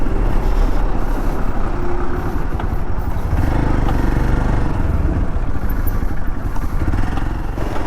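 Motorbike engine drones steadily while riding slowly past stalled vehicles in a hill-road traffic jam, a loud continuous rumble with rattling and road noise throughout, close-miked and without pause.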